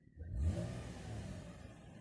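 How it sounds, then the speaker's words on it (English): A single short 2013 Chevrolet Camaro RS engine rev swells quickly and fades back toward idle, close and fairly loud. "This car's a little loud, so I'm not going to rev it too high."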